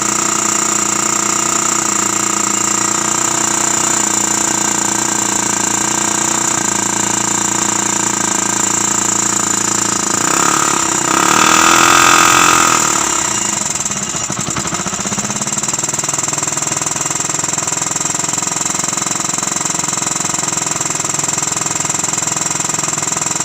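A car running on a motorcycle engine, part of a conversion with the motorcycle motor coupled to the differential, is started up and runs with a steady loud mechanical drone and a brief swell in the middle, with no talk.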